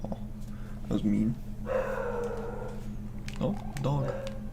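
A dog in a video game gives short barks and a yipping whimper, a few bursts over a steady game hum, while a person talks across it.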